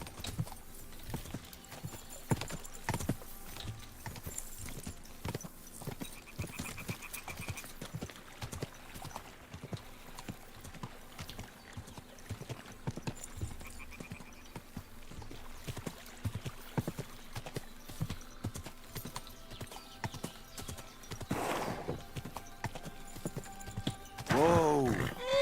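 Horse hooves clip-clop in a steady rhythm across a Kingdom Come Deliverance 2 game scene, a horse passing close with snorts over ambient noise, rising louder near the end.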